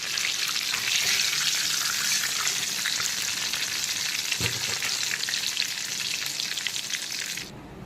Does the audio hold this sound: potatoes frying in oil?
yes